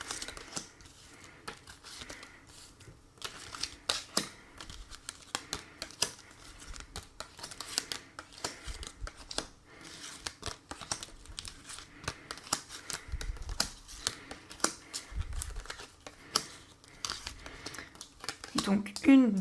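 Playing cards being shuffled, flicked and laid down for a tarot-style card reading, a steady stream of soft papery snaps and riffles under someone talking in French.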